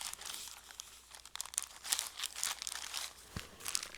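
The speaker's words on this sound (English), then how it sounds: "Sorry, crinkling, but I do have to put it away." Plastic packaging crinkles and rustles softly at close range as it is handled and tucked away, a continuous irregular crackle with no talking.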